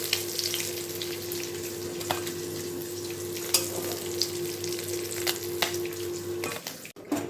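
Prawns frying in hot oil in a home kitchen, a soft continuous sizzle with faint crackles and occasional sharp taps of a utensil against the pan, no voices.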